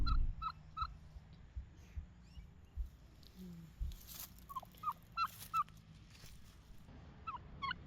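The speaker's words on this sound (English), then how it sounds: "Mrs. Gobbles is a female Royal Palm turkey breed." A female Royal Palm turkey calls in quick, faint bursts of gobbling, several short clusters spread across the stretch with quiet gaps and soft background noise between them.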